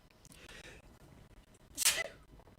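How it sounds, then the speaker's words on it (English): A single sharp human sneeze bursts out after a quiet moment, close and loud, ending quickly. "these sudden sneezes came out of nowhere"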